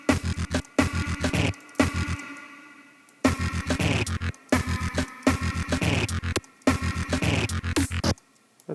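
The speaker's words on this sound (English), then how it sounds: "What if we just sent it to a reverb?" Choppy glitch-hop synth pattern washed in reverb, stuttering in rapid gated bursts with brief gaps, loud and alone with no voices.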